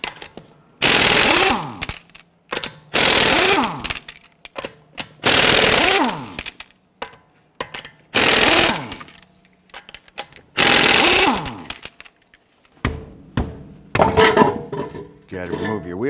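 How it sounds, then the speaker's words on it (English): An impact wrench on a 22mm socket loosens the lug nuts on a Honda Pilot wheel, firing loud, close rattling bursts again and again with brief gaps between them. "Using our 22mm socket, let's loosen and remove our lug nuts."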